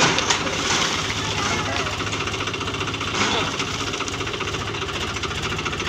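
A tractor engine idling with a steady, knocking mechanical rumble while tipping out a load of murum gravel for house building, continuous and fairly loud, with voices talking nearby.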